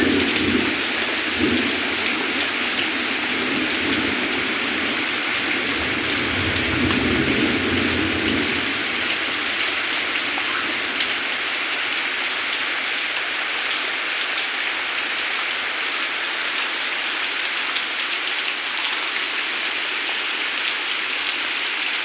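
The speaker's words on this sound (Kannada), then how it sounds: "ಹೆಬ್ಬತ್ತಿಯಲ್ಲಿ ಗುಡುಗು ಸಿಡಿಲು ಗಾಳಿ ಸಮೇತವಾಗಿ ಮಳೆ ಸುರಿದಿದೆ." Heavy rain pouring down with wind and thunder in Hebbatti near Siddapura, a steady, loud hiss of downpour with a low rumbling swell early on, continuous and without speech.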